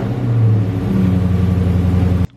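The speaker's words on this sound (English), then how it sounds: "So let's go ahead and get this car crank up." A car with a loud stock exhaust idles and rumbles just after cranking, a close, throaty low drone with slight rises in pitch, cutting off abruptly near the end.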